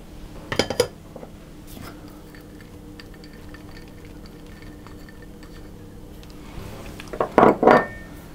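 Dried fruit is stirred into a thick Dundee cake batter in a mixing bowl, giving soft scraping and a few clinks of spoon on bowl. A short burst comes early, then quiet, then a louder flurry of knocks near the end.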